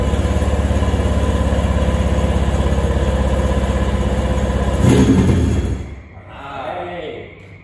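A 1996 Sea-Doo GTS jet ski engine, revived after sitting for over 10 years, runs with a steady, loud, pulsing idle, briefly rises, then cuts out as a voice speaks over the fading sound.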